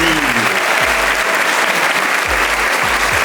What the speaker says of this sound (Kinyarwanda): reka tubanze tubakobite amashyi meza